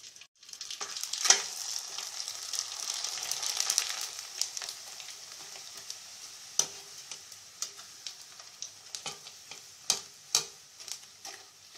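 Spicy steamed rice papad, Malnad style, frying in hot oil in a pan: a steady close sizzle and bubbling with scattered sharp crackles and pops throughout.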